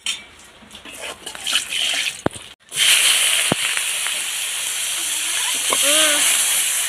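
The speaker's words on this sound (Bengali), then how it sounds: "আগে আলুটা ভাজি। জিরে ফোড়ন দিলাম।" Potatoes fry in hot oil with cumin seeds on a new stove, and a loud hissing sizzle bursts in partway through. The sizzle then holds steady and close, with a few faint sounds heard before it starts.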